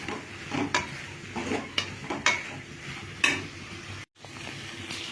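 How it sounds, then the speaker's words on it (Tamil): Ginger garlic paste sautéing in a pan for tomato kuzhambu: a soft background sizzle broken by several sharp scrapes and taps of a spoon against the pan, with a brief silent gap near the end. "எல்லாம் போட்டு ஒரு வதக்கணும்"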